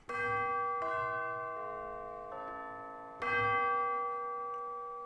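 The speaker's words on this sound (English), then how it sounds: "Jubilee bells, yeah, take it or leave it." Jubilee bells from an orchestral sample library ring out in clear tuned strikes, a few bell tones sounding in sequence with long shimmering decays, including a fresh loud strike near the end, heard alone.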